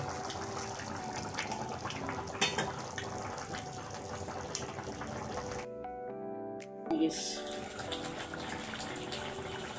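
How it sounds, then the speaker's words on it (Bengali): Water poured into a cooking pan of boiled flat beans and fried rui fish, a soft continuous splashing and sizzling stream that briefly cuts out, then resumes quietly. "আমি একটু পানি দেব"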